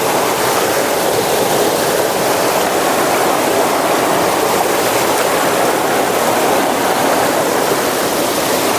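Loud, continuous rush of flowing freshwater stream, a dense even roar that never lets up, close by.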